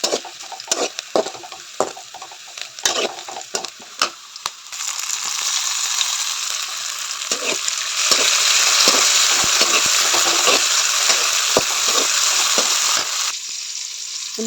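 Onions and tomatoes fry in a pan with a loud, close sizzle. Repeated stirring scrapes run through the first seconds, then a continuous crackling hiss builds and holds to the end.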